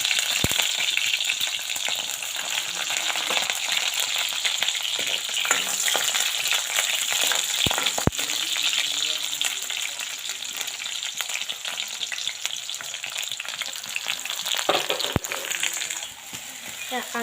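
Onions and green chilies sizzle in hot oil at the start of a potato bhujia, a dense, loud, continuous crackle close by. Occasional sharp clicks from a utensil punctuate the frying.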